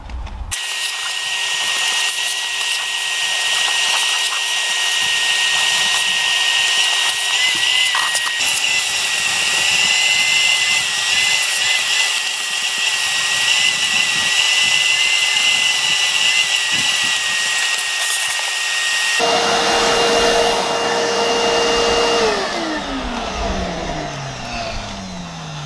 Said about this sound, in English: I hoover the rest of the vehicle out